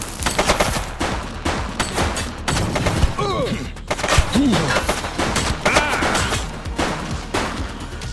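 Repeated gunshots ring out in a police shootout in The Precinct video game, dense bursts of close fire across the whole stretch, with brief shouted voices mixed in between the shots.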